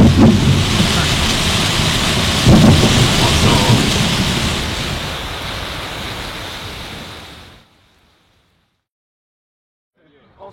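Steady heavy rain with loud thunder cracks and rumbles throughout, then the downpour cuts off abruptly into near silence near the end.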